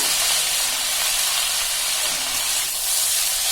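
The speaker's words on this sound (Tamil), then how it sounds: "தண்ணி இவ்வளவுதான், சும்மா தெளிச்சுதான் விடுறேன்." Water sprinkled into a hot pan of cooking snake gourd sets off a loud, steady sizzling hiss of steam. It holds evenly from start to finish with no speech over it.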